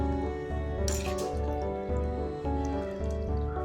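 Chilli chicken is scooped and slid from an iron kadai into another kadai pan, giving wet squelching scrapes and a brief bright metallic clatter near the start, close and moderately loud over a steady tonal hum.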